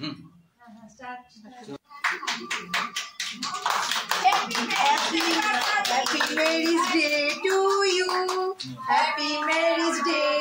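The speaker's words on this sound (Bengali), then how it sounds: "সবাই হাততালি দাও, হাততালি দাও" A small family group claps at a 34th wedding anniversary celebration. Scattered claps build into brisk, quick clapping, then blend with lively voices and cheerful chatter.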